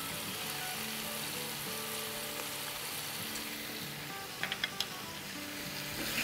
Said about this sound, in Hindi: अदरक लहसुन के साथ भी 2 मिनट भून लेंगे